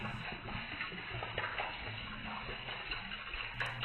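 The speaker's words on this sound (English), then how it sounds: "In the second experiment, we create a kind of tornado in the bottle." Water swirls and gurgles as it drains out of a bottle through a tornado-shaped vortex, a continuous close trickling and splashing with faint ticking knocks.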